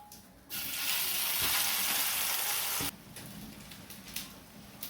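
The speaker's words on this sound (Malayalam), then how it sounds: "അപ്പോൾ ഇനി നമ്മൾ എടുത്തു വെച്ച കടല അരച്ചത് നമുക്കിതിലേക്ക് ചേർക്കാം," Ground chickpea paste hits hot ghee in a pan with a sudden loud sizzle that holds for a couple of seconds, then settles into softer crackling and stirring.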